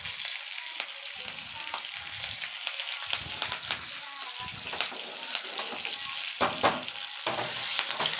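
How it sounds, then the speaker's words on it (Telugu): A tempering of curry leaves and urad dal crackles in hot oil: a continuous sizzle punctuated by sharp, irregular pops and spatters, fairly close and heard alone. "ఇదిగోండి పోపు ఇలా చిటపట్లు ఆడాలి"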